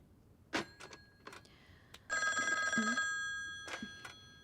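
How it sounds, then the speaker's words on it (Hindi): A telephone bell rings in one steady burst of about a second, close and clear, set between brief knocks and clatter in an indoor scene. "मुझे लगा मेरे बॉस का फोन था"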